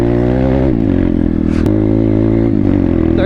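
A pit bike's engine drones loud and close while riding a flooded, muddy trail, its pitch dipping and rising with throttle changes over about three seconds.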